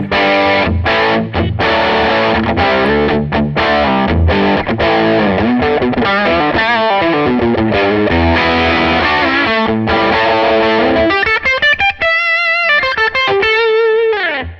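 A distorted electric guitar through a modelled vintage 1964 Marshall JTM45 amp tone plays heavy, crunchy riffs and chords, ending with a sustained run of ringing, vibrato-laden lead notes.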